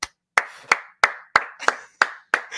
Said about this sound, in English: wanted to give a quick round of applause for Patrick Beverly